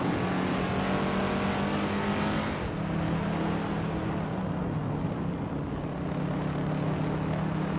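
Race cars, a classic 1964 Porsche 901 among them, roar off the start at the Queensland National Track, a dense loud wash of engines that eases slightly after a couple of seconds but keeps droning on.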